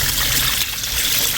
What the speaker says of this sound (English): I'm going to pour some water in the sink